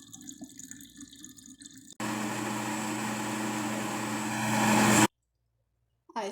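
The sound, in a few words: milk being poured in for a mango shake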